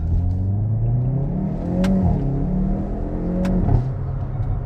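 A 2022 Hyundai i30 N hot hatch engine revs up and shifts through gears in manual mode, a steady mid-pitched growl rising and dropping, heard from inside the car.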